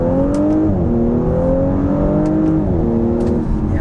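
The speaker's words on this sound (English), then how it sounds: "I'm going to do another acceleration here in manual mode." A 2022 Audi S5 Sportback engine revs up through the gears in manual mode, pitch climbing, dropping briefly at each shift, then climbing again, loud and close.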